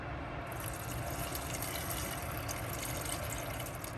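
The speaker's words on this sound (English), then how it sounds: "And now I'm gonna go in with some water." Water is poured into a rice cooker over washed jasmine rice for rice and peas. It makes a steady, soft rushing flow that continues evenly for several seconds.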